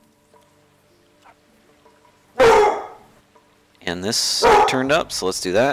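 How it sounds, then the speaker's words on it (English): A dog gives one sharp bark in the background, and someone talks just after it. "Sorry about the dog barking."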